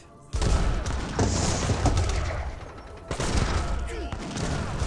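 Musket volleys in an Age of Empires 3 battle, with Portuguese and Iroquois forces, crackle in dense overlapping fusillades beneath booming impacts and a busy battle din, steady and fairly loud throughout.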